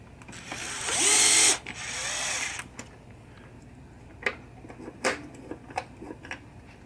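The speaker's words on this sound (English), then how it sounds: "let's get it started with the electric screwdriver because I got to hold it" Electric screwdriver with a magnetic tip driving screws into a 1976 Williams Grand Prix pinball machine: a loud whirring burst of about a second and a half, a second softer run, then scattered faint clicks and knocks of handling.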